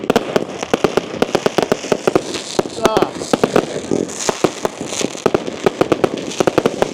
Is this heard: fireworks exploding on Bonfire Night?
yes